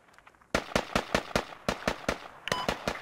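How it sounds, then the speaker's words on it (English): Gunfire in the video game Squad, a series of about a dozen sharp cracks in a fairly even rhythm that begins abruptly after a short quiet stretch, heard on its own without talk. "Well, they're firing somewhere, but they're shooting our allies to the northwest."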